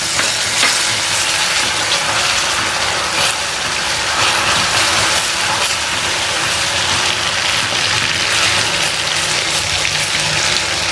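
Caramel with fresh cream bubbles and sizzles in a hot pan while being stirred, a continuous loud frying hiss with scraping stirring sounds throughout, no talking.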